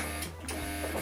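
A domestic sewing machine stitching forward on a beginner's fabric pouch project, a steady close mechanical whirr with a brief dip in the middle, heard alone without talk.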